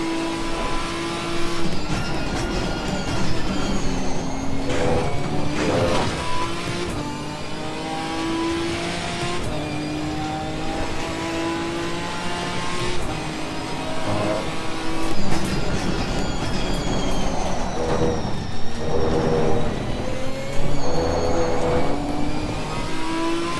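A Ginetta G55 GT4 race car in Assetto Corsa Competizione roars steadily under load, its engine note rising and falling through gear changes and revs, loud and continuous with no voices over it.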